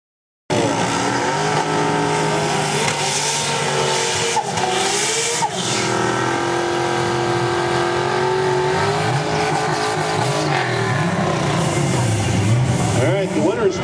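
A 1974 Datsun 240Z drag car pulls hard down the strip at Anchorage, its engine climbing through the gears toward about 140 mph, loud and continuous with rising pitch, while a commentator talks over it.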